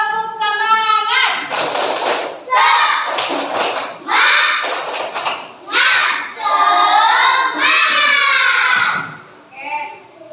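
Young pupils in an Islamic school class do a rhythmic spirit-clapping chant at the end of a lesson, sung voices alternating with sharp bursts of group claps in a steady, lively pattern.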